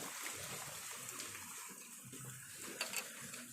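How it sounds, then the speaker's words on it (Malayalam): Rain falling outside a home, a faint, even hiss of water that runs steadily throughout with a few soft drips near the end and no talking. "എന്താടാ അവിടെ കിടന്ന് മഴ പെയ്യുണ്ട്"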